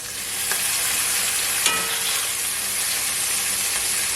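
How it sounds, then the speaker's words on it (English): Smoked bacon sizzles in a hot pan for a homemade cheeseburger, a close, constant hissing fry broken by a couple of sharp taps and clicks from the pan, with no talking. "I'm gonna also add my smoked bacon."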